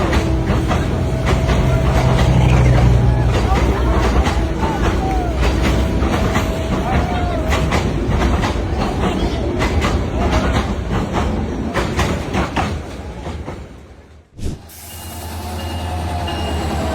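A crowded train in Bangladesh rumbles loudly along the rails with a steady roar and rhythmic clatter of the wagons. The noise cuts out sharply near the end, then resumes.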